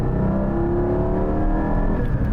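Porsche 718 GT4 with a naturally aspirated flat-six, revving steadily and loudly up close, its engine note rising smoothly with dense harmonics and no voices.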